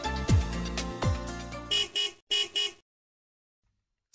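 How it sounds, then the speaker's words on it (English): Vehicle horns honk in a street scene: two longer blasts followed by four short toots, loud and close, then the clip falls silent. "honking of vehicles"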